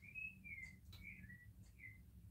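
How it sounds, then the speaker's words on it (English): Birds outside give several clear, high whistled chirps in short phrases, faint and somewhat distant, over a low steady background hum with no talking. "That's birds, yeah. It sounded like they were whistling right when you said it."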